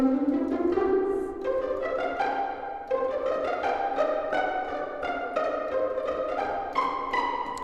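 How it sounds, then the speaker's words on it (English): A bright melody of short plucked string notes, bouncing up and down in a quick, steady rhythm, played pizzicato with no voices. "These are where you pluck the strings themselves"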